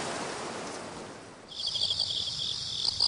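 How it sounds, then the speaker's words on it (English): Evening insects chirring on an autumn night in Japan, a steady high-pitched shrill trill that starts after a short pause and carries on over soft wind and ambient hiss, alone without voices. "The sound of the evening insects adds to the atmospheric setting."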